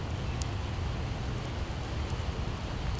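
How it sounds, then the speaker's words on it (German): Steady, dense rain falls in the Project Zomboid video game, a constant hissing downpour with no pauses or voices. "Vielleicht kommt ja hier der Regen nicht hin."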